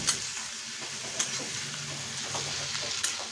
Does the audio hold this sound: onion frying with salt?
yes